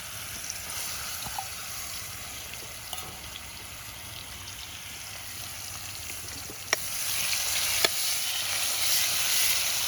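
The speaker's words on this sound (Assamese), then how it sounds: "এইটো এতিয়া দি দিওঁ পুৰা তেল গৰম হৈ আছে" Local chicken pieces go into hot oil in a pan for a Maggi chicken recipe. They fry with a steady close hissing sizzle that grows slightly louder partway through, with a few faint clicks and stirring taps.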